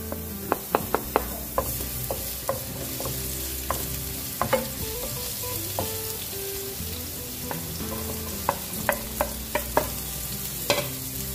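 Garlic frying in rendered pork fat from pork belly, a steady close sizzle broken by repeated clacks of a spatula stirring and scraping the pan, with no talking.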